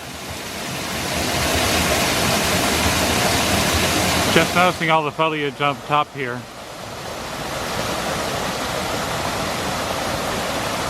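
Steady rushing roar of water falling behind a waterfall at the Dallas Arboretum, broad and constant throughout, with someone speaking briefly over it midway.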